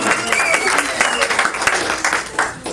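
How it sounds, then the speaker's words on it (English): A crowd at a religious discourse session in a cultural center claps steadily in dense applause, loud and sustained, with voices mixed in underneath. "a big round of applause"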